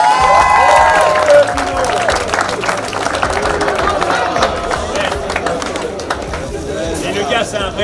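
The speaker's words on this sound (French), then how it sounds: "On applaudit Dino, s'il vous plaît." Crowd applause at an outdoor motocross race event in Lubumbashi, a loud dense wash of clapping and cheering from many people, easing slightly over time with voices mixed in.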